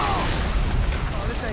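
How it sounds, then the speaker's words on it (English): Grenade blast in Halo 3 combat, a dense, rumbling boom that fills the whole moment with steady, loud noise, with game battle sounds around it. "Grenade!"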